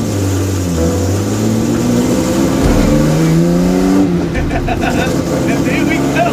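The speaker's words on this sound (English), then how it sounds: "And there we go. We're driving the Henny van der Linde GTX." A Henny van der Linde GTX sports car out on a race circuit, its engine loud and close, revving with rising pitch and dropping at gear changes, then climbing again under steady acceleration.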